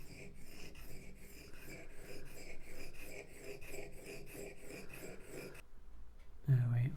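A woodworking gouge is rubbed backwards and forwards on a sharpening stone, a steady rhythmic rasping scrape over several strokes that stops briefly before a short bump near the end.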